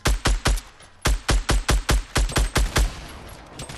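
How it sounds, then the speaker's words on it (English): Grenade launcher grenades exploding in Fortnite, a rapid string of about a dozen sharp, loud blasts in quick uneven rhythm, a short pause after the first few, then the rest trailing off. "He's just spamming grenades."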